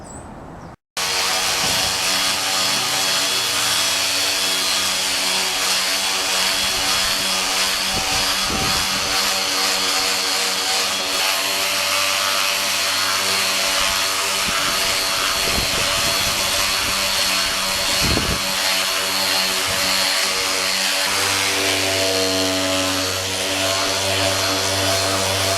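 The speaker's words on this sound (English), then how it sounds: "I've got my power sanders out here" Power sanders grind over glass-filled Bondo body filler during a motorcycle restoration, a loud continuous whirring drone held steady for the whole stretch after a sudden start, with no speech.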